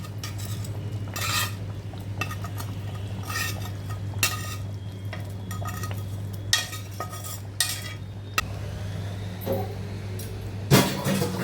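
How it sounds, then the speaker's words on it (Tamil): A spoon clatters and scrapes around a pan of simmering paneer butter masala in short bursts over a steady low simmering hum, with sharper clinks near the end. "இடையில இடையில கொஞ்சம் கிளறி விட்டுக்குங்க"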